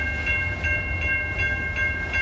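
CN freight train with boxcars rolling past, a steady loud rumble with faint, regular wheel clicks repeating about every 0.4 seconds and no voices.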